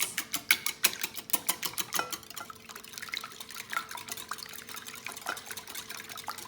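Four eggs are beaten in a bowl with a wire whisk, giving quick rhythmic clicking strokes against the bowl with a wet, sloshing edge. The strokes are sharpest and loudest at first, then settle into a steady, softer pace.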